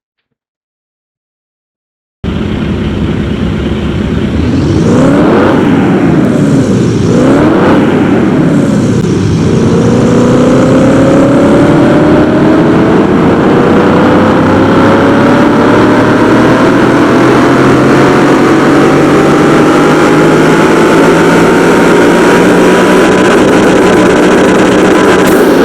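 Aston Martin DBX engine tuned toward 1300 horsepower, run on a dyno in Car Mechanic Simulator 2021: loud, steady engine sound with revs rising and falling twice, then a long continuous climb in pitch as it holds full throttle.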